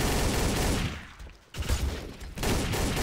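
Rapid gunfire rattles from a Trouble in Terrorist Town video game round, loud dense bursts that break off briefly in the middle before the shooting starts up again.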